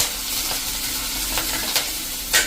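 Samosa masala with chopped green chillies sizzles in a pan over a low to medium flame, a steady soft frying hiss broken by a few brief scraping strokes of a stirring spoon, close up with no talking.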